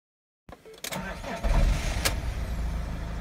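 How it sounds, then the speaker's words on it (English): A car engine cranks briefly and catches, then settles into a steady running rumble close by, with the engine management light on during EGR fault diagnosis. "Let's try start up the engine again."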